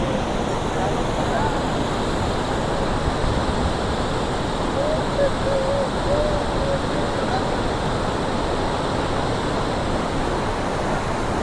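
Gaganachukki waterfall in Karnataka roars with a steady, broad rush of falling water that stays close and constant throughout, with faint voices barely audible beneath it.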